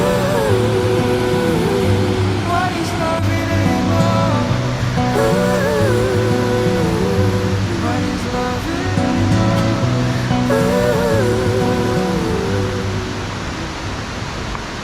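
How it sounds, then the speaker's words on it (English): Rainbow Waterfall in New Zealand roars as a loud, steady wash of falling water close to the base, continuous throughout with tonal music layered over it. "We've made it to the bottom of the waterfall."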